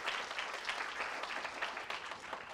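Audience applauding a student presenter at a summer youth camp talk concert, steady dense clapping from a crowd, moderately loud and continuous throughout, with no talk over it.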